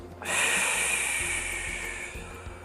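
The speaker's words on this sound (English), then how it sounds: "Breathe out." A single long, soft exhale through the mouth during pregnancy pilates, a breathy hiss close up and alone after a brief quiet start.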